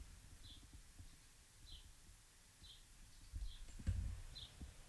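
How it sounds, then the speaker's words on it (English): Birds sing outdoors in faint, evenly spaced high chirps about once a second, somewhat distant, over low background rumble and a few soft thumps. "That's the birds"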